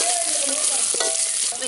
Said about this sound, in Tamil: வெந்தயம் நல்லா பொரிஞ்சிருச்சு, வெங்காயமும் நல்லா வதங்கிடுச்சு.